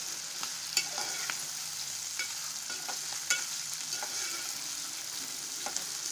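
Papdi beans and potatoes fry in a pan, a soft steady sizzle broken by sharp spatula clicks and scrapes against the metal every second or so.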